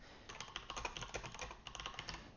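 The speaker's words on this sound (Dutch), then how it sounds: "Hierboven typ je dan een titel." Rapid keystrokes on a computer keyboard while a blog post title is entered, a quick irregular run of crisp clicks heard close and alone, with a brief pause midway.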